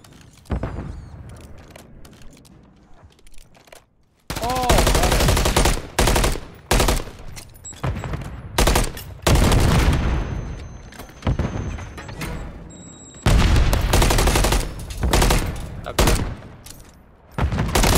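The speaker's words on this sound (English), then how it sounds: "The longest gunfight of my life." Long gunfight in Call of Duty MW3 ranked play: loud bursts of automatic rifle fire and booming shots come in repeated clusters separated by short quieter gaps, with faint game sounds between.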